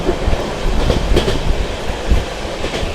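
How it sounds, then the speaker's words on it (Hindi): From aboard a moving train, a loud, steady rumble with rhythmic clickety-clack of wheels over rail joints fills the space as it runs through Mirzapur station without stopping. "दोस्तों ट्रेन अपनी स्किप करने जा रही है मिर्जापुर।"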